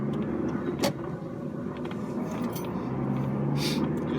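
Car interior on a drive through rural Netherlands: a steady engine and road rumble holds throughout, with a few brief knocks and rattles on top and no talking.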